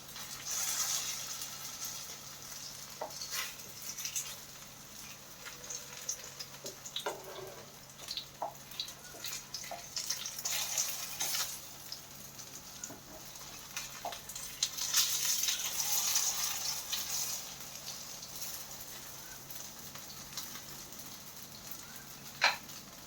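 Snake gourd cutlets frying in a pan over a medium flame, giving a steady, faint sizzle with scattered small pops and crackles throughout, with no talking.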